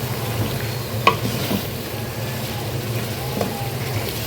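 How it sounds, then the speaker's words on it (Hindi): Chicken and potato pieces sizzle in a pan, a moderate frying hiss with occasional scrapes and clinks of stirring, one sharper knock partway through, no talk. "हमारे चिकन की अच्छे से भुनाई हो रही है।"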